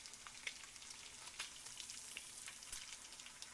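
Bacon frying in a cast iron pan on a Sunday morning, a faint, even crackle of spitting grease with small pops scattered throughout, heard alone without talk.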